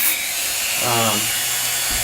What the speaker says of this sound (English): by sanding the joint nice and smooth, right where the black and the white foam here are meeting